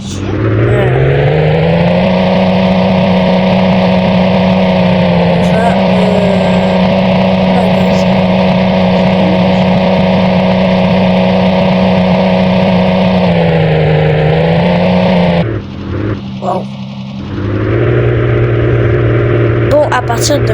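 Steady mid-pitched car engine hum from a Roblox Berry Avenue game car, droning loud and continuous for about fifteen seconds before briefly cutting out and returning, with faint game sounds around it.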